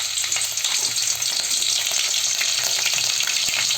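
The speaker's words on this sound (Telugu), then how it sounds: "అది వేడైన తర్వాత 1/2 టీ స్పూన్ అల్లం వెల్లుల్లి పేస్ట్ వేసుకోవాలి." Half a teaspoon of ginger garlic paste hitting hot oil in a kadai for village-style haleem: a loud, dense, continuous sizzle and crackle, close and steady.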